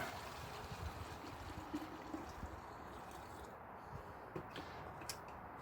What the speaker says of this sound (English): In with a litre of water.